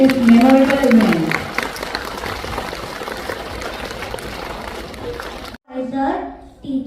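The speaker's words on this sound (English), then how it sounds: "let's give us a big round of applause as we commence this memorable event" An audience at a school assembly in Dubai claps through most of the stretch, moderately loud and steady, with a voice speaking at the start and again after a brief pause near the end.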